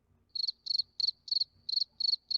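Cricket chirp sound effect played back indoors, seven evenly spaced bursts of rapid high trilling, clean and close with near silence between them.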